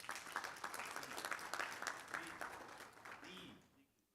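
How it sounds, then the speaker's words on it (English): Steady applause from an audience at a school district board meeting fills the room, dense and sustained, then thins and fades out near the end. "a round of applause for Group 6."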